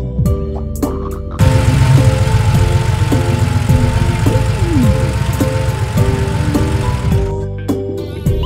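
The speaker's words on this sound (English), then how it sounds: "White milk van." A cartoon white milk van's engine idles in a children's puzzle game, a steady low rumbling drone of several seconds over light background music, with no talking.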